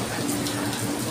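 Steady rain falls outside a pizza shop at night, a dense, even hiss without pause over a short moment.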